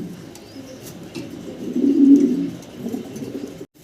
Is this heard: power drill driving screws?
no